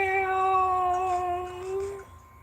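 A person's voice imitates a cat's meow, a drawn-out tonal mew with a clear harmonic stack lasting about two seconds, close and fairly loud over a low background rumble.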